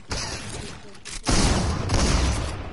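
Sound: shotgun shots in Fortnite video game

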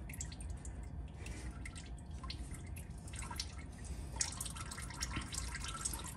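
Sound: engine oil dripping from Ford Crown Victoria oil pan

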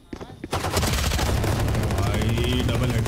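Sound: gunshots in a shooter video game

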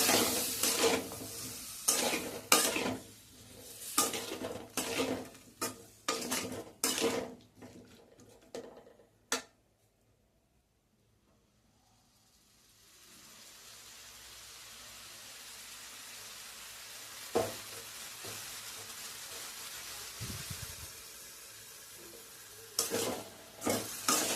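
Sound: stirring and frying spices in a pan

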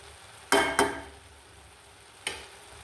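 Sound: stirring onion stalk fry with coriander leaves in pan

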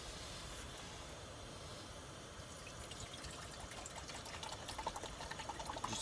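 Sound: water pouring for instant coffee

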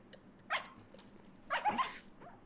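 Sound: dog barking in a video game

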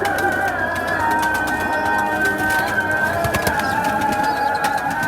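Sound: pigeons cooing

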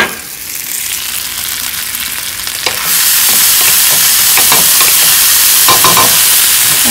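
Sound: crushed peppers sizzling in a pan

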